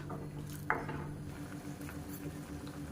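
A ladle scrapes and clinks once against a cooking pot while sambar with added salt and turmeric is stirred, followed by quiet simmering and faint pot noises.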